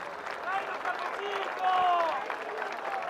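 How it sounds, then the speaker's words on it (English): A crowd applauds the podium winners at the 2017 Buenos Aires Formula E race, a steady wash of clapping and cheering that swells briefly near the middle, with voices mixed in. "Ladies and gentlemen, a huge round of applause for all of our podium winners."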